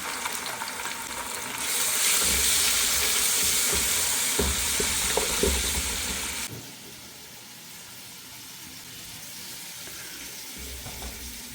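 Onion, garam masala, ginger paste and garlic paste fry in hot oil for khichuri. A loud, steady sizzle swells in after a quieter start, holds for several seconds with a few stirring knocks, then drops back to a soft bubbling hiss.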